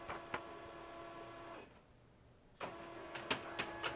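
A printer feeds out another page in a workshop, its motor whirring steadily, going quiet for about a second, then resuming with sharp clicks and clunks.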